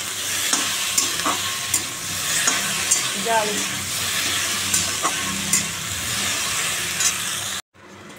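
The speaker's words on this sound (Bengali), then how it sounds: "চলো আমার ঢ্যাঁড়স কুমড়ো ভাজা হয়ে গেল" Okra and pumpkin frying in a pan, a steady close sizzle with periodic scraping stir strokes and clinks, a brief spoken word, and a sudden cutoff near the end.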